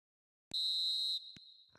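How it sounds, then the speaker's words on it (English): A referee's whistle ends a football video game match with one long, loud, shrill blast followed by a brief short toot, clean and isolated against silence. "And there goes the final whistle."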